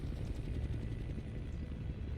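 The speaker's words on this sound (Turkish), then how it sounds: "Yine helikopter ya." Helicopter in the shooter game Call of Duty Cold War, a steady low rotor drone that holds at constant level throughout, fairly loud and unbroken.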